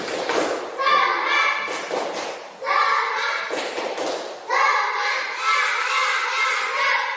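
A classroom of children performing a rhythmic spirit clap, bursts of loud, close synchronized clapping in patterned beats, with children's voices chanting along between and over the claps.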